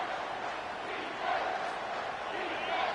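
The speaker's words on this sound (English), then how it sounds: "Decibels rising as the crowd gets behind this defense on third down." A stadium crowd at a college football game between Oklahoma and Alabama roars steadily for the defense on third down, a broad sustained wall of cheering that swells slightly midway, with no clear voices on top.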